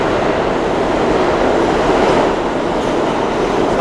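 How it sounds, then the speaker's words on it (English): A New York City subway express train, the N train, rushes past on 4th Avenue in Brooklyn with a steady loud roar and rail rumble, no voices. "Here comes an express train coming down 4th Avenue,"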